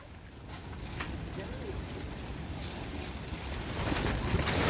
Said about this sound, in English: Here's another gust.